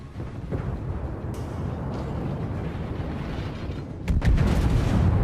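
Warship main guns firing shells in World of Warships, a continuous rumbling barrage of heavy booms that swells louder toward the end, with sharper cracks layered over the low roar and no talking.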